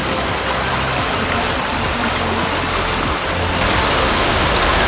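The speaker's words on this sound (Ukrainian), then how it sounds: "Ось він наш Манявський водоспад." Loud, constant rush of the Maniava waterfall in the Ukrainian Carpathians, dense roaring water noise filling the whole clip without pause.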